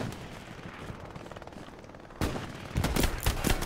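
Shooter video game gunfire: rapid bursts of sharp shots break out partway through after a noisy lead-in, loud and close, coming in quick clusters.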